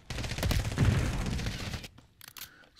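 Rapid automatic gunfire from a first-person shooter video game, a dense burst of close, loud shots lasting under two seconds, followed by a few scattered fainter shots.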